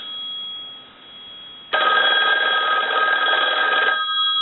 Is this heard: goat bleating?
no